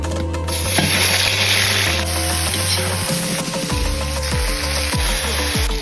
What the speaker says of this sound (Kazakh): Ет қуырамыз.